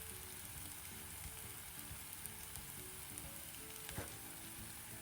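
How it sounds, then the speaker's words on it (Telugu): Masala paste for Telangana bagara rice fries in a pan with a quiet, continuous sizzle and fine crackle, a soft scrape of stirring near the end, and no talking. "మసాలా పేస్ట్ అనేది పచ్చివాసన పోయే వరకు వేయించుకోవాలి."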